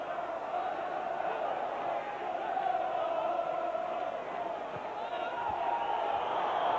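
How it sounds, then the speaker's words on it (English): A frustrated football crowd at Norwich City versus Manchester United, a steady broad roar of massed voices filling the stadium, with a commentator talking over it. "the crowd getting frustrated"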